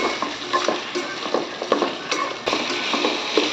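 Pulao ingredients stirred in a hot pan, a steady sizzle broken by repeated scraping strokes of the spoon, close and continuous with no talking.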